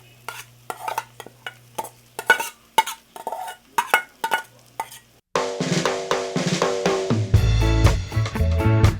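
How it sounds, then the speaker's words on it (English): Saltfish goes into a cooking pot in a Paramin, Trinidad kitchen: several sharp clinks of a spoon against the pot, then a loud, continuous sizzle and frying hiss with rattling stirring scrapes. "I'm going to add the saltfish now."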